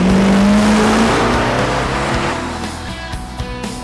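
A muscle car's engine revs loud and close, a deep rising roar that peaks early and then eases off into a rougher idle with a few sharp blips.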